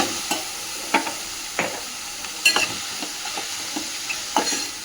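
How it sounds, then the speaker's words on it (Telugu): Mushroom curry with onion and chili powder is stirred in a pan, with a steady soft sizzle under repeated scraping strokes of a spoon, close and moderately loud. "ఇక్కడ వేసి ఒకసారి అయితే కలుపుకోవాలి"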